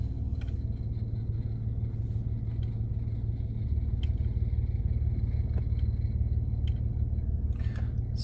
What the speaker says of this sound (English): I want to see if the exhaust note changes too.